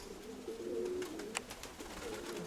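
A domestic pigeon coos softly and close by in a few low, rolling notes, with faint outdoor background around it.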